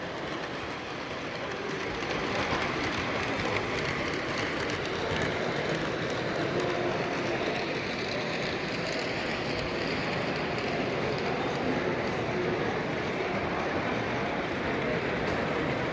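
Model train running on a layout at a model train expo in an arena, a steady broadband rolling rumble with a faint clicking texture, continuous and fairly loud throughout.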